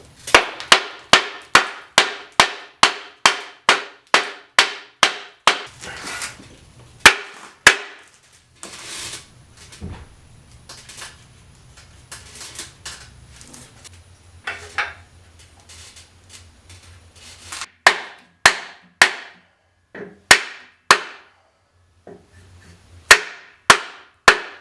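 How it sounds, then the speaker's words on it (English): A hammer drives differential mount bushings into a BMW E46 subframe through a wooden block. The blows come in rapid runs of sharp, ringing taps, separated by quieter stretches of shuffling and handling noise before the tapping resumes. "I started to tap them in with a hammer, but I used a block of wood"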